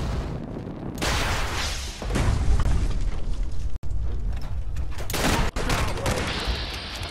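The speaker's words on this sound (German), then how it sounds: "Damit einen Raketenwerfer auf mich schießen" Rocket launcher fire and heavy explosions in the game Fallout 4 during a fight with a super mutant warlord, a loud sustained barrage of booming blasts and rumbling, with two abrupt cuts.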